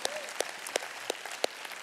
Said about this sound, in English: if you're sick of hearing applause